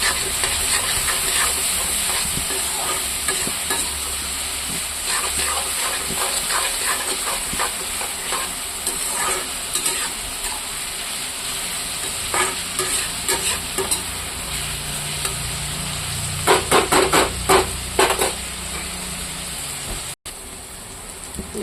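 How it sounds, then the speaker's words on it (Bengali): Pointed gourd (potol) with salt and turmeric sizzles steadily in a hot pan while a spatula stirs it, giving scraping clatters in short clusters over the continuous frying hiss. "এখন আবারও লাড়িয়ে দেবো।"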